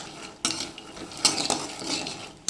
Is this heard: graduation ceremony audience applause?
no